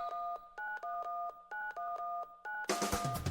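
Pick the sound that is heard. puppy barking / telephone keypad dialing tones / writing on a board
telephone keypad dialing tones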